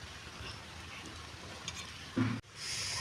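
Boiled chana dal being stirred with a ladle in a pot, a steady soft sizzling and scraping wash with a brief louder clunk near the end.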